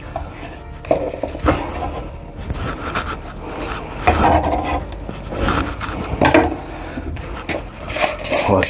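Salmon coating ingredients stirred in a small bowl, giving continuous scraping and rubbing with irregular clinks of utensil against the bowl, close and moderately loud with no talk.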